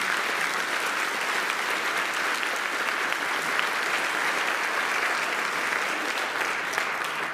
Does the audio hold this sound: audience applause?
yes